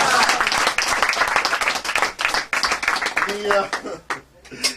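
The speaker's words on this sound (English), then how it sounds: "Give her a round of applause." Audience applause at a close-up magic show in a Hollywood magic venue, a burst of clapping that swells then thins out over several seconds, with a voice speaking over it near the end.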